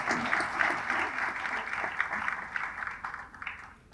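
An audience at a trust's fiftieth anniversary event claps together in a broad, sustained wash of applause that thins and becomes more scattered toward the end.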